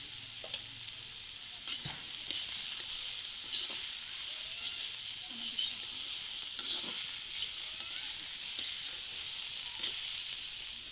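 Grated papaya sizzles and fries steadily in a pan for a village-style papaya paratha filling, a constant bright hiss with occasional stirring scrapes, close and loud throughout.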